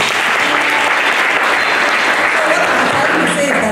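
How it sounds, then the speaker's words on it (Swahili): A church congregation claps for God in loud, dense, continuous applause that fills the whole moment without a break. "Tupigie Mungu makofi."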